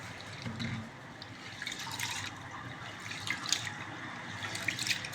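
Rice being rinsed by hand in a vessel of water, with soft splashing and swishing as the grains are rubbed, quiet and close with no talk.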